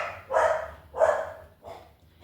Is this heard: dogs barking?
yes